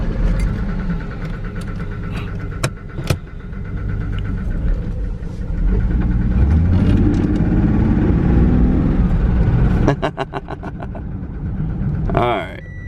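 A budget SN95 V6 Mustang rolls off to park, its engine rumbling low and steady with rises and dips in revs, ending with a brief higher-pitched squeal near the end.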